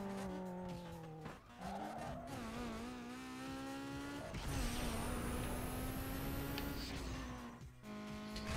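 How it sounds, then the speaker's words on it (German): A car in the Need for Speed Underground 2 racing game roars at high speed down a long straight, engine note climbing through gear shifts with tire squeal and rushing road noise, loud and close, no talk. "Wir versuchen jetzt einfach mal hier auf der längsten Geraden eine hohe Geschwindigkeit hinzukriegen"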